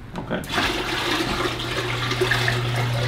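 Water pours steadily and close up into a bucket, a continuous rushing splash lasting the whole moment with a low hum underneath and no talking.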